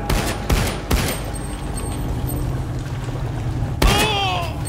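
Gunfire in the shooter game SiN Episodes: Emergence, a few sharp loud shots up front and a burst near the end over a busy game background.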